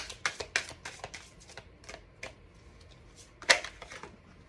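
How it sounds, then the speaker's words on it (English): Cards pulled from a deck make soft, quick flicks and shuffling rustles, a cluster of close, light snaps with one sharper burst near the end. "let me pull a few of these cards here"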